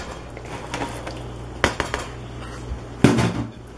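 Chili ingredients mixed in a pot on a stovetop, a few clanks and scrapes of a spoon against metal spaced over several seconds, close, with quiet pauses between knocks and no talking.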